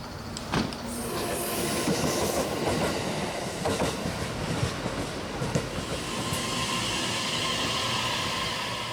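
Passenger train running overnight along the Pacific coast to Iwaki in Fukushima, Japan; a steady, loud rumble of wheels on rails with rhythmic clacks and occasional metallic squeals throughout.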